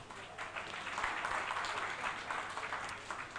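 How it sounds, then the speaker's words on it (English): Steady applause from a debate audience, a dense wash of clapping hands that holds at moderate volume for a few seconds. "give yourself a round of applause"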